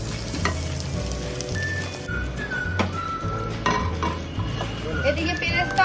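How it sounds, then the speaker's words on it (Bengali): Chopped onion fries in ghee for Kashmiri pulao with a steady, close sizzle, broken by occasional clinks and scrapes of a utensil against the pan. "দিয়ে দিচ্ছি পেঁয়াজ কুচি, এটা আমি ভেজে তুলে নেবো।"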